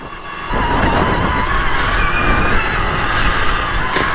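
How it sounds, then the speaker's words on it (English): Electric trials motorbike ridden over stony ground, a steady whirring motor with continuous crunching and gravel flicking up from the wheels, fairly close and constant throughout. "You just hear the stones flicking up off the wheels and kind of the electric machinations of it."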